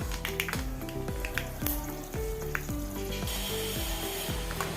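Dried red chilies, mustard seeds and fenugreek crackling and sizzling in hot coconut oil for a Kerala buttermilk curry, with sharp rapid pops and a steady loud hiss close by, no talking.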